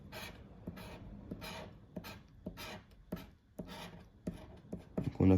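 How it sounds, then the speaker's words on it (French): Coin or nail scraping the latex coating off a French scratch-card lottery ticket, short rasping strokes repeated in a steady rhythm, close and fairly faint, ending in a louder scrape. "Oula, j'arrive pas à gratter là."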